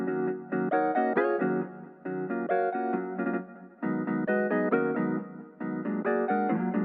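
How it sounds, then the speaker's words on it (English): Ionosphere guitar run through an arpeggiator preset in a chill lo-fi arrangement, playing quick repeating plucked note patterns in steady rhythmic bursts with brief gaps, bright and clear with no talking. "So I got this guitar from Ionosphere and I added an arpeggiator on it."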